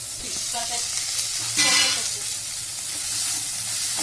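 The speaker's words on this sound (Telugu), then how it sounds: "వేసేసుకొని మధ్యలో కలుపుకుంటూ కొంచెం వేయించుకోండి" Bottle gourd peel frying with peanuts and green chillies in oil, a steady close sizzle with stirring scrapes and a brief louder burst midway, no talking.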